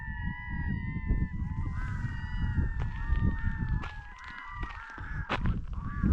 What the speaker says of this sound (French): C'est des mouettes qu'on entend.